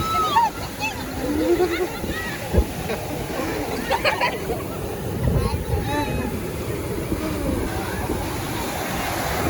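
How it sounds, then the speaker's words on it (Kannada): Big monsoon waves crash and wash onto a beach near Bekal Fort, a steady broadband roar of surf with sloshing bursts, while someone talks over the noise. "ಮಳೆಗಾಲ ಆದ ಕಾರಣ ಅಲೆ ತುಂಬ ಇದೆ ನೋಡಿ"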